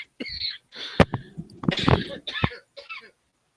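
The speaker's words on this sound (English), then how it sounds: "you and me both coughing right now" Several short, harsh coughs come in quick bursts, close to the microphone, separated by brief silences.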